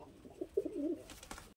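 A male tumbler pigeon, a fancy breed, gives a single faint, brief warbling coo, followed by light rustling, in a quiet setting.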